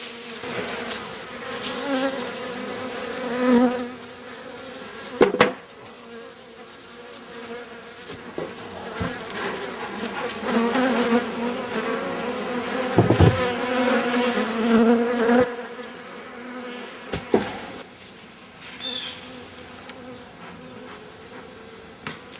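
Honeybees buzz steadily around an open hive during the first inspection of the season, a close, droning hum with occasional clicks and knocks of equipment, no voices over it.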